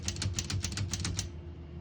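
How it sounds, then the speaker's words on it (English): A 1965 Olivetti Lettera 32 portable typewriter clacks close and crisp in a quick run of about ten mechanical strikes, each with a metallic snap, ending in quiet. "Backspace on the right side of the keyboard works great."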